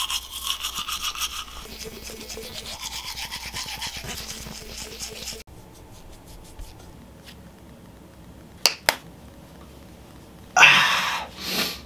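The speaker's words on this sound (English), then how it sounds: "It is straight vibrating toothbrush." An electric vibrating toothbrush buzzes close up with a steady high whirring hum that changes pitch as it works, then stops, followed by a few sharp knocks and a brief rustle.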